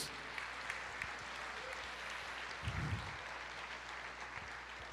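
Congregation applauding during a Portuguese-language church sermon about the birth of Jesus, a steady wash of clapping from a crowd heard throughout, moderately loud, with no speech over it.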